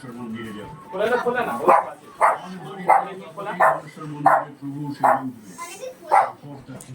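Doro, a pet dog, gives a string of short sharp barks about once every second, close and fairly loud, with whimpering yips mixed in and people talking softly in the background.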